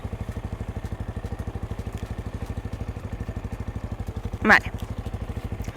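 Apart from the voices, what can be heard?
manual-gear motorcycle engine idling in neutral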